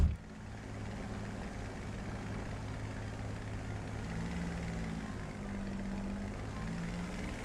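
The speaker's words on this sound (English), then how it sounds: "We've got a low-flying aircraft" Propeller aircraft flying low in a flight sim game such as War Thunder or DCS, a steady droning engine hum with a low harmonic whine that holds at an even, moderate level throughout.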